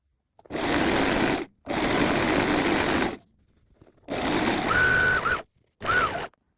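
A sewing machine or overlocker stitches a seam on Prince of Wales check dress fabric in four close, loud bursts of rapid mechanical whirring, separated by short pauses.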